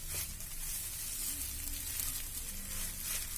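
A potato filling for cutlets is mixed in a hot pan, giving a steady, close sizzle and frying hiss throughout with soft stirring scrapes underneath.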